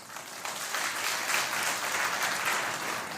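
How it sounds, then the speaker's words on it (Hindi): An audience at a spiritual talk claps together, a continuous, even wash of applause from many hands at moderate volume, with no voice over it. "और आइए तो ताली बजा दीजिए ना"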